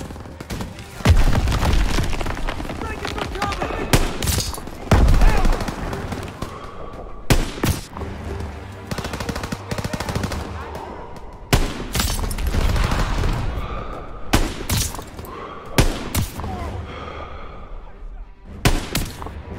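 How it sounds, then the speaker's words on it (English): Gunfire and machine gun fire in the World War II shooter Call of Duty WWII, with sharp close shots, rattling automatic bursts and heavy booming blasts in irregular clusters, loud and chaotic throughout. "Gunfire!"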